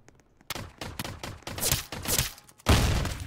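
Rapid energy pistol shots from a video game, a loud burst of repeated sharp blasts that swell and fade over a few seconds before a heavier closing blast.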